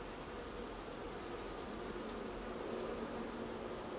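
Honey bees buzzing at a hive during a beekeeper's first inspection, a dense, continuous drone of many insects, close and steady throughout with no voices.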